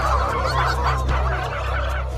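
A turkey gobbles in rapid repeated bursts, loud and close, its warbling calls running continuously through the short stretch with a low steady rumble beneath.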